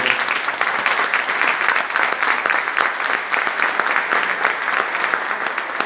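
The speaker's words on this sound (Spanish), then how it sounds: "Le pido un aplauso a Néstor Berlanda" An audience at a UFO congress in a Spanish-speaking hall applauds guest Néstor Berlanda, with dense, even clapping from many hands sustained for several seconds with no talk over it.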